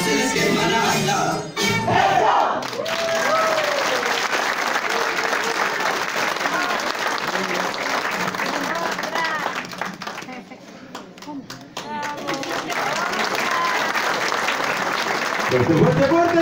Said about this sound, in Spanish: ¡Fuerte, fuerte, fuerte! ¡Tus aplausos!